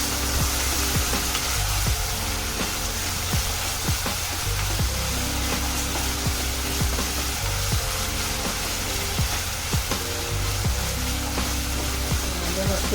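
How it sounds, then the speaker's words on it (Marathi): Ginger garlic paste frying with softened tomato in a pan, a steady loud sizzle with faint stirring taps running throughout. "आलं लसूण पेस्ट आहे, ते 1 चमचा भरून टाकूया"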